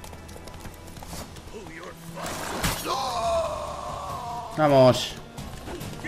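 A horse neighs loudly in The Witcher 3 game, a rising whinny over steady in-game background sound, with someone speaking Spanish briefly.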